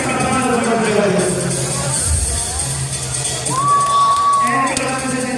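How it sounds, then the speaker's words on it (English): Crowd cheering and shouting at a Mr. and Ms. Philippines Finest 2016 pageant announcement, a steady roar of voices with whoops and a sustained whistle-like tone, no distinct clapping standing out. "let's have a round of applause"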